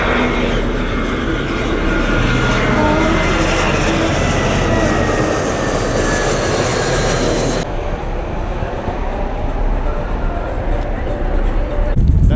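A fixed-wing airplane passes low overhead above a sunset cruise off Mackenzie Beach in Larnaca, Cyprus, its loud, steady engine roar filling the whole span over wind and water noise, dropping off sharply near the end.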